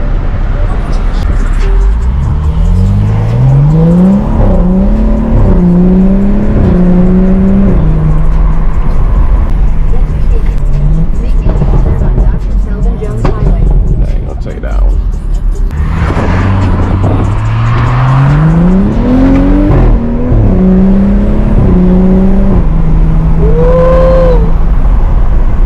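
A BMW F30 335i with the N55 engine is driven through town, its engine note rising through the gears in several pulls and settling back, loud from inside the cabin, with people talking over it.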